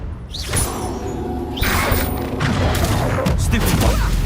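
A Confringo fire spell explodes in Hogwarts Legacy, loud booming blasts and crashes rising under energetic speech, with the roar growing heavier toward the end.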